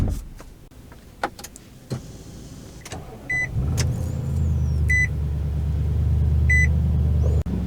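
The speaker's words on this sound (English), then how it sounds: "steering wheel power adjustable." Power-adjustable steering wheel of a 2023 Nissan Titan Platinum Reserve, its motor whirring steadily for about four seconds inside the cab, with a few soft electronic chimes and no talk.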